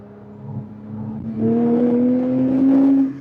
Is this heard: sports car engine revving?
yes